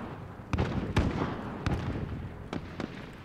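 Video game gunfire from enemies shooting down from rooftops: a handful of sharp, sparse shots and thuds at middling loudness over a low background rumble, with no speech.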